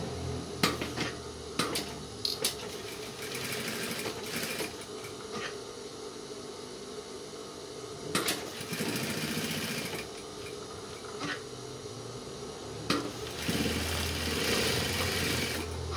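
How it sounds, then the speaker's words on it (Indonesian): A sewing machine stitches a men's trouser waistband along a chalk line, running in short rattling bursts with brief pauses and a longer steady run, close by and with no talking. "dan kita jahit mengikuti garis kapur"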